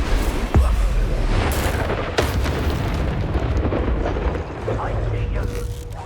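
The Incendio fire spell bursts in the video game Hogwarts Legacy with a sharp whoosh and crackle over a continuous low rumbling roar of combat, a few quick impacts punctuating the dense battle noise.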